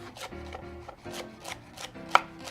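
A knife chops vegetables on a cutting board in a quick, even rhythm of about eight close, crisp taps, with one sharper knock near the end.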